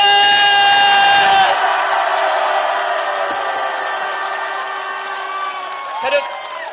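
A rally crowd roars a drawn-out victory shout together, a loud sustained cheer with a strong held tone that gradually fades, followed by scattered whoops.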